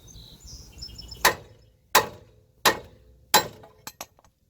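Four sharp metallic hammer blows ring out on the lower control arm of a 2003–2009 Toyota 4Runner, evenly spaced and loud, followed by two lighter taps.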